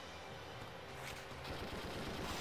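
Gunfire in Valkyria Chronicles 2, a dense, continuous rattle of shots filling the whole stretch, growing slightly heavier toward the end, with no talk over it.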